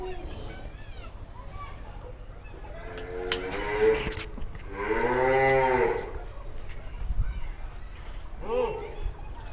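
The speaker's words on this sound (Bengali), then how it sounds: "আমরা এখন আপনাদেরকে আরও একটা বলিষ্ঠ গরু দেখাচ্ছি" A sacrificial cow at a dairy farm sale lows in several drawn-out moos, one long and loud in the middle, while people talk nearby under a background murmur.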